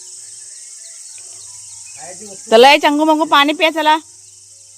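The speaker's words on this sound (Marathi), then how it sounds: "रातकिड्यांचा आवाज काही कमी होत नाही हाय तोच आहे" Crickets trill in a steady, high, unbroken drone across a village morning, with a person calling out loudly partway through over the insects.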